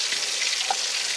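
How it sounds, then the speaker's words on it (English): Short burst of soft hissing as catfish deep fries in hot oil, close and fairly quiet, with a faint bubbling pop. "So now we deep fry."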